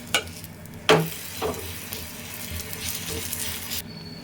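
Sweet maida poli frying on a hot tawa: a soft, steady sizzle with a few sharp scraping touches near the start, fairly quiet and without talk, then cutting off abruptly.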